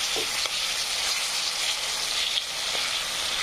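Onion and tomato sizzle steadily in oil in a pan for a Maharashtrian usal gravy, a dense, even frying hiss close up with no talking.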